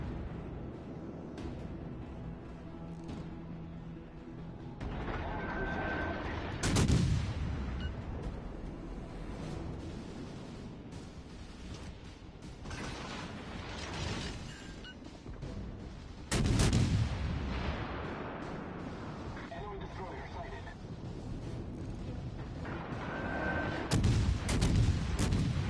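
Naval guns firing in the World of Warships video game, a few heavy booming salvos spaced apart over a constant rumbling battle background.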